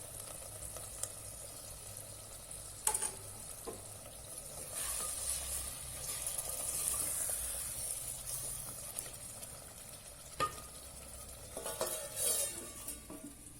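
Hot water goes into a pan of frying Savji-style chicken masala, bringing steady sizzling and bubbling with occasional sharp stirring scrapes and clinks, close and fairly quiet.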